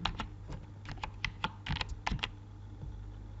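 Typing on a computer keyboard, close and fairly quiet, with irregular bursts of key clicks and short pauses between them.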